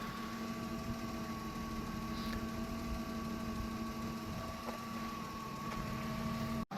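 A warmed-up 1998 Dodge Grand Caravan SE engine idles steadily, a constant even hum with a faint whine layered over it, close and unbroken throughout.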